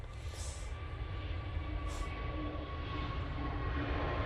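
An EasyJet Airbus A321neo taking off at Manchester Airport, a faint, steady distant roar that builds slowly, heard from afar under outdoor background noise with no talk.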